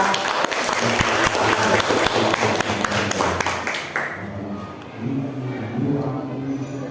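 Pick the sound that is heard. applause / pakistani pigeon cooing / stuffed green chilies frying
applause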